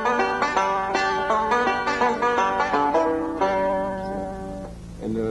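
Banjo playing a continuous Scruggs-style three-finger forward roll, thumb then index then middle, in the manner of Cripple Creek; bright plucked notes repeat in a quick steady cascade, close and clear, with no talking.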